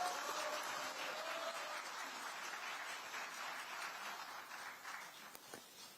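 An audience gives sustained applause welcoming a party leader to the stage at a rally calling for a constitutional amendment, steady and fairly distant, slowly easing off toward the end.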